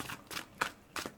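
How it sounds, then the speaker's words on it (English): Tarot cards being shuffled by hand, four short papery riffles at an even, unhurried rhythm, soft and close with no voices. "We'll shuffle a few times. I do shuffle these in between my readings"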